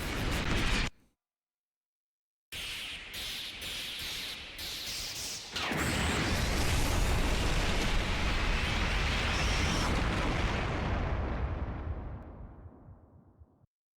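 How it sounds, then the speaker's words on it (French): Explosions in a Smash Bros video game: a burst cut off by silence, then a quick series of sharp blasts leading into a long loud roaring explosion that rumbles and fades away at the end. "Des explosions à Smash Bros."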